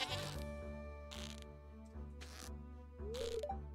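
A goat in Stardew Valley gives short bleats among clicking, mechanical game sounds and soft background music, each cry brief and close against a quiet steady bed.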